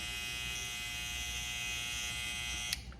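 A Babyliss GoldFX or Stylecraft Saber cordless hair clipper hums with a steady high-pitched buzz, close and continuous, ending with a brief click as it switches off.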